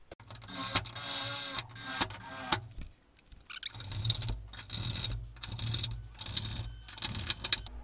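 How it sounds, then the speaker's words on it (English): Short bursts of a power drill driving screws into a hood hinge brace on a 1973–1987 Chevy C10, loud whirring pulses with brief pauses between them, close up. "through here and then screw in the provided screws"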